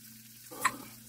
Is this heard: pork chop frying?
yes